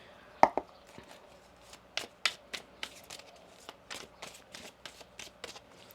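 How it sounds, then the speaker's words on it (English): A tarot deck being shuffled, a quick series of sharp card slaps and riffles that starts with one loud snap and continues as softer, uneven bursts, with no voices. "One more shuffle here."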